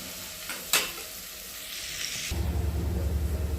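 Sliced onions sautéing in a pan with stirring: a soft sizzle and a scrape of the spoon come first, then a louder, steady frying crackle takes over for the last second, close and with no talk.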